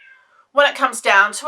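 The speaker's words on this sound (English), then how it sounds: "you can probably hear my cat Corey singing in the background as well" A pet cat named Corey meows in a drawn-out, sing-song way, mixed in with a person talking close by.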